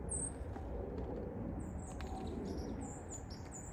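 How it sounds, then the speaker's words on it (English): Faint high chirps of wild birds singing outdoors, several short calls scattered over a constant quiet background hiss. "I hear the birds singing, so little by little they'll be popping through."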